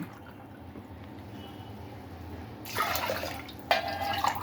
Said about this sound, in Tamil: நான் மூணு டம்ளர் தண்ணி ஊற்ற போகிறேன்